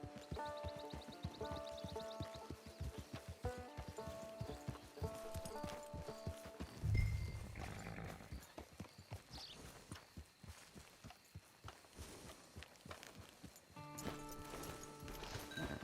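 Horse hooves clip-clop in the Red Dead Online video game, a steady rhythmic trot layered over game music and ambience, with a brief heavier thump partway through.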